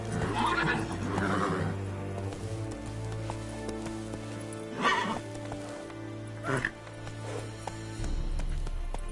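Roach, a horse in The Witcher video game, whinnies and snorts over a steady low ambient drone, with a few sharp hoof-like thumps spread across the passage.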